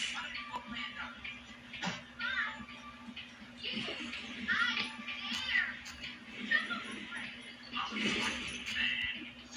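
Cat meowing and caterwauling in the video game Pixel Gun 3D, repeated loud drawn-out yowls close up over a steady background hum.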